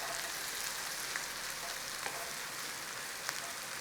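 Garlic, ginger and green chilli fry in a pan for khichdi, giving a faint, steady sizzle and crackle with a few small pops and one sharper tick near the end.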